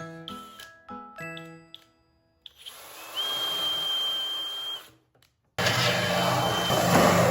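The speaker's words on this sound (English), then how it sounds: "I'm using my drill" A power drill whirs in a sustained burst after some clattering and knocks, stops, then a louder whine kicks in near the end, while building a wooden box.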